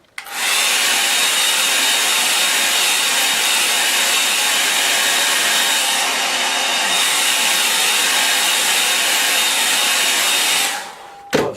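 A hair dryer blows steadily and loudly onto wet watercolour paint for about ten seconds, a constant close whooshing hiss that cuts off abruptly at the end.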